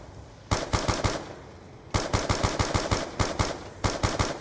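Rapid automatic gunfire in bursts while shooting zombies in Black Ops 2 Origins Zombies, loud and close, three clusters of quick shots separated by short pauses, with no talking.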